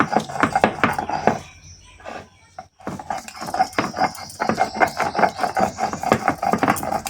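Yardlong beans are ground on a flat stone slab with a stone roller, making rapid rhythmic rubbing and knocking strokes up close, pausing briefly midway before resuming with a steady back-and-forth beat.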